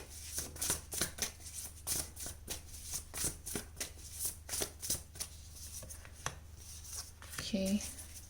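Tarot cards being shuffled by hand, a steady run of soft riffling flutters and taps close up over a low background hum, with no talking.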